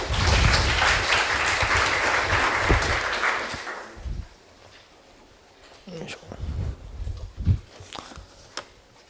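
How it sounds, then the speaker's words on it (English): Audience applause for a presenter at a robotics research talk: a dense, loud round of clapping for about four seconds that cuts off, followed by quieter room sounds and a voice speaking. "So please give him a warm applause."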